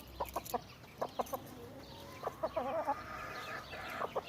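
A backyard flock of chickens with a white rooster clucks nearby in short repeated bursts, some calls rising into longer drawn-out cackles, over quiet outdoor background noise.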